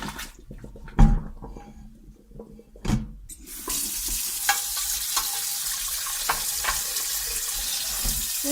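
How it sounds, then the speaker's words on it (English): A pan scrubbed clean after boiling water in it: a few knocks and scrapes at first, then a steady rushing hiss of running water and scrubbing against the pan, close by. "then scrub out your pan"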